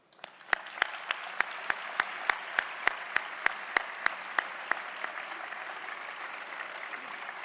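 Audience applause at a gala proclaiming festival queens and ladies of honour, a steady crowd clapping that swells and carries on, with sharp single claps popping out at a regular beat over the wash.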